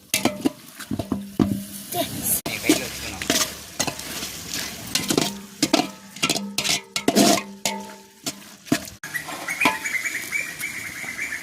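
A spoon scrapes and clatters against a cooking pot as chicken biryani is stirred, in repeated sharp metallic strokes over a soft sizzle of frying, with a brief pause and a hiss near the end.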